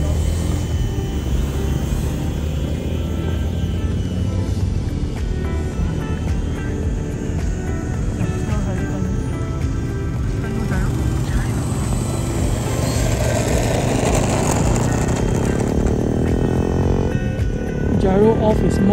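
A small Eachine mini P-47 RC warbird plane buzzes steadily overhead in flight, its electric motor and propeller whine holding a constant drone, and the pitch shifts slightly as it banks while the gyro is set to its second mode.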